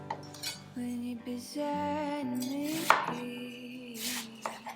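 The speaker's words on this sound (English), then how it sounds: "So now we're just gonna cut the onions into smaller chunks." A knife chops onions on a cutting board with steady, close blade knocks, while a sustained musical tone plays underneath.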